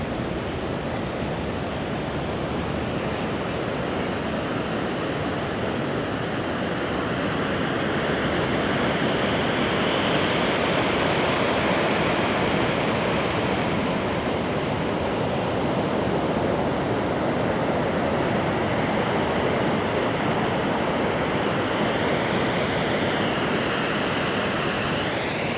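Ocean surf rolls steadily onto a Gold Coast beach, a continuous broad wash of breaking waves with some wind, fairly loud and unbroken throughout with no voices.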